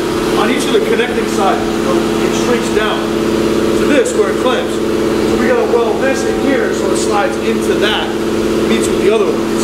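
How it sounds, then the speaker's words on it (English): A loud air compressor runs in a garage during muffler work on a 2018 Mustang GT, a steady droning hum throughout under someone talking close by. "The air compressor in here is really loud."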